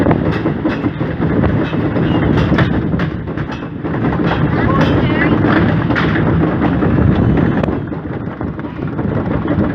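A roller coaster train at Southport Pleasureland rumbles and clatters along the track at speed, a loud continuous roar with rattling clacks throughout.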